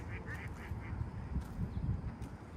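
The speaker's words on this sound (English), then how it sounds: "These duckies over here are having a fun time" Several ducks quack in short repeated bursts over steady background noise on a North Bay street, fairly close but not loud, with no talking heard.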